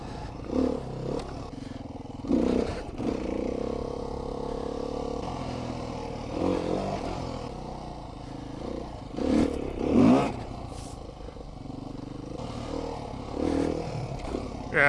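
Motorcycle riding with a GoPro Hero 8 mounted on the rider's helmet: a steady engine drone and wind rush with rises in revving, loud and close throughout.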